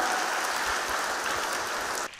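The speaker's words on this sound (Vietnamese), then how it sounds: "Xin chúng ta cùng dành cho tất cả các bạn trả lời nãy giờ một tràng vỗ tay thật lớn." Children and adults at a Vietnamese Advent gathering give a big round of applause, a dense, even crackle of clapping lasting about two seconds before cutting off abruptly.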